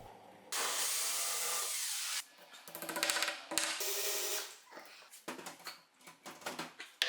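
A tool cuts a hole in a kitchen wall to fit an extractor hood during an apartment renovation. A steady loud burst of cutting is followed by shorter broken bursts and scraping.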